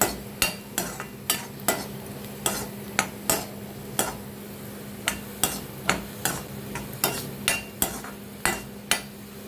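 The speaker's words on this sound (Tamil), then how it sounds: "அந்த எண்ணெயிலே வேகணும், அந்தளவுக்கு நல்லா வறுத்து விட்டுறணும்." A spatula stir-fries carrots in oil for chutney, striking the pan in a steady run of sharp knocks over a low sizzle, close by with no talking.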